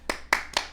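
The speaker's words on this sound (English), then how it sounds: "Claps for self." One person claps for themselves, four sharp, close hand claps spaced evenly in quick succession over less than a second, with no voices.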